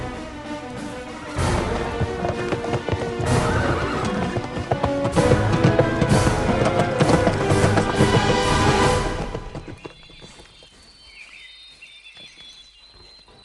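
A horse whinnies loudly over a busy, close mix of clip-clopping hooves, then the sound drops away to quieter, sparse hoof knocks and insect chirping.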